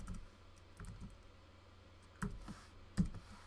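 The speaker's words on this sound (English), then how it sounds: "I'm going to type some message" A computer keyboard is typed on sparsely, with a few soft key clicks and two louder taps near the end, close and quiet with no talking.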